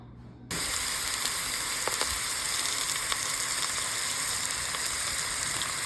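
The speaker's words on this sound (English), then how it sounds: "then we're going to sear it in our Ninja 3-in-1" A seasoned pork shoulder roast, rubbed with barbecue pork rub, sears in a Ninja 3-in-1 cooker, giving a loud, steady sizzle and hiss that starts abruptly after a brief quiet moment and continues unbroken with small crackles throughout.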